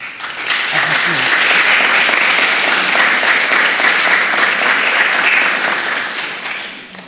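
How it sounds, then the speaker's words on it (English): A large audience at a national youth parliament breaks into loud, sustained applause, a dense wash of clapping that swells quickly, holds for several seconds and then gradually fades. "I think you will deserve a resounding round of applause"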